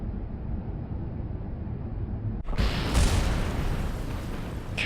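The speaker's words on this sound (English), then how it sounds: "It's going to be an explosion." Spacecraft explosion in Kerbal Space Program: a low rumble cuts off and a sudden loud burst follows, then a broad roaring blast that rolls on to the end.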